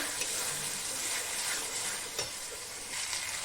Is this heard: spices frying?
yes